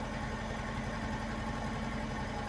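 A VAZ 2101 with a carburetted engine idles on petrol, a steady, even low rumble with no change in revs and no voices over it.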